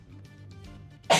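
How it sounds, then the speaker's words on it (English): A single sharp sneeze bursts out loudly at the very end, after a quiet stretch of faint murmuring and breathing. "I can feel a sneeze coming on."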